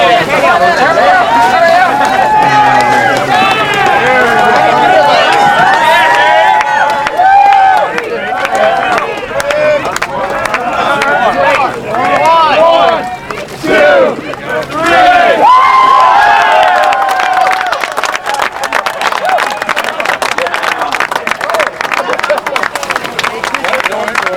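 A crowd cheers, whoops and claps for seniors at an event, a loud, dense roar of voices and applause that swells and ebbs over about twenty-four seconds, with shouting and nearby talk mixed in.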